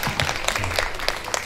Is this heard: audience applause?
yes